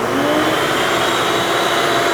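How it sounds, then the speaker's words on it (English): A vacuum cleaner runs loud and steady nearby with a continuous whooshing roar during a basic wash of a Jeep Trackhawk. "So let's just keep on filling this vacuum up"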